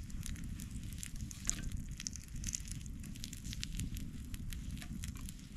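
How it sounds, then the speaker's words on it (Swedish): Vegan bacon fries in a pan over an outdoor campfire, giving a dense crackling patter of fat and flame with a low fire rumble underneath. "Så här jag dem över elden så här."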